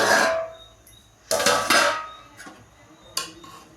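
A metal plate lid lifted off a pot of cooked biryani rice gives a sharp clatter at the start, then more metallic clanks and scrapes follow, loud and close, with no talk.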